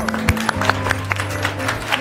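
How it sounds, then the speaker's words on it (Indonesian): An audience claps together, giving a crowd a round of applause. Quick, uneven claps sound close and fairly loud over a steady tonal hum throughout the short burst. "Semua pada tepuk tangan."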